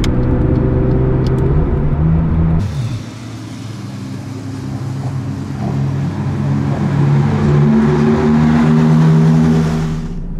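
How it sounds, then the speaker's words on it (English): A McLaren 675LT on a race track, tires running at lowered pressure, with a loud engine drone and rumble heard from inside the car, a droning whine over it that dips briefly and then swells again. "we've dropped tire pressure, so that's why it's making like a really weird, annoying noise right now"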